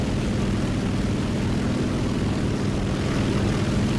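A helicopter in the War Thunder video game drones loudly and continuously, a dense rotor and engine roar holding steady throughout with no talk over it.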